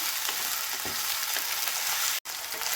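Steady loud sizzling of chicken with ginger and garlic frying in a pan, with occasional scraping and stirring sounds and one brief cut to silence.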